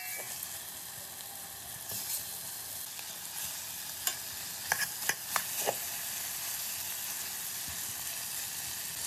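Beef searing in about 10 g of melted butter in a pot for a French-style beef-in-beer stew: a steady, close sizzle with a cluster of sharp pops and crackles midway, and no talking.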